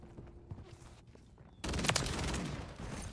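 Heavy gunfire in a military shooter video game, a burst of dense rapid shots erupting loudly after a quieter stretch of scattered distant fire and game ambience.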